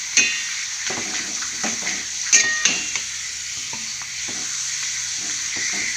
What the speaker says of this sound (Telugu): ఎక్కువ ఎక్కువసేపు వేపనవసరం ఉండదండి కొంచెం లైట్ అలా వేస్తే చాలు